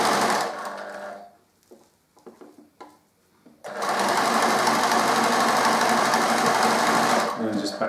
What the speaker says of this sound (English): we've stitched that all the way along